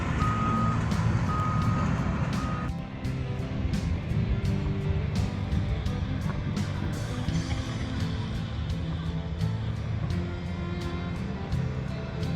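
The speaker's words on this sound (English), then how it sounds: "We have another D6N in the backside over there. It's pushing up towards the excavator" A D6N bulldozer, an excavator and rock dump trucks work at a dam construction site, with a loud rumbling diesel drone throughout and a repeating reversing beep in the first few seconds, plus scattered clanks.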